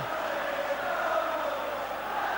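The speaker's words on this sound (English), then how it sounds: "most of the noise you're hearing now from the crowd is coming from the Rangers end" Football crowd at a 1988 Rangers v Celtic match, a steady distant roar and chanting from the Rangers end, even and unbroken throughout.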